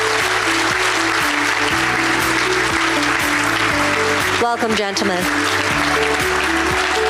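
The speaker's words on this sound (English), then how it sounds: "let's welcome them with a big round of applause" Audience applause fills a conference hall at the Asia Insurance Forum 2023 in Hong Kong, steady clapping from a crowd throughout while a host briefly speaks over it.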